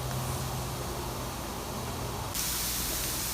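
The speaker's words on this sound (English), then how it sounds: "We're just going to crumble it and allow it to sear." Crumbled vegan tofu chorizo sears in an oil-free pan, producing a dense, continuous sizzling hiss that stays close and steady and briefly grows brighter near the end.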